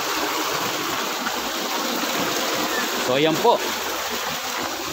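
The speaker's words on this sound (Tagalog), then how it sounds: "At makikita nyo po na patuloy na umaagos ang malinis na tubig." Clean water of the Sabang River flowing steadily, a broad continuous rushing wash heard close by, with a voice speaking briefly over it.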